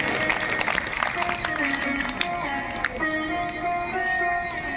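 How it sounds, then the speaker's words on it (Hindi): Audience at a Ram Katha religious gathering in Damoh applauding to welcome a guest, steady moderate clapping from a seated crowd with a faint voice or music above it. "आदरणीय डालचंद राय साहब को एक बार जोरदार ताली बजा के"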